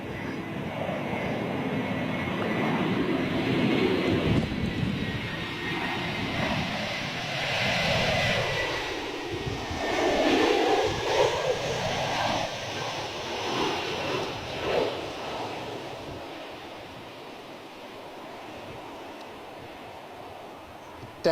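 An airliner lands at Bristol Airport in gusty wind, its engine roar loud and sustained for about twenty seconds with a rising and falling pitch sweep as it passes, plus a rushing wind noise throughout.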